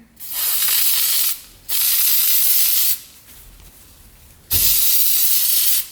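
Three bursts of aerosol foam air filter oil spray hiss, each lasting about a second, separated by short pauses; close and loud with no talking.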